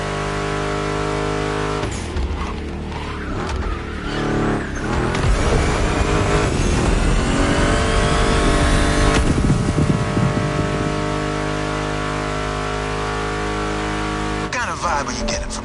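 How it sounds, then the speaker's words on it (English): Muscle car engines, including a Mustang GT, rev and roar in The Crew Motorfest racing game, a loud, steady drone mixed with rock music and voices throughout. "Meshes well with the sound of the engines, you feel me?"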